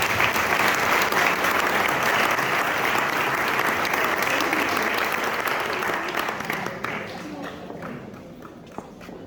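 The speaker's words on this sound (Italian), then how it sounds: "Io direi di fare un applauso a questa meraviglia." An audience at a fashion conference on traditional dress gives sustained applause, dense and loud at first and then thinning toward the end, with voices heard over it.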